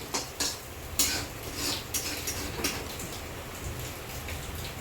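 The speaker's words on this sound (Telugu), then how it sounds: "బయట వర్షం" Rain falls outside in Hyderabad, a faint steady patter with scattered sharper drips and ticks on hard surfaces, soft and distant-sounding with no one talking.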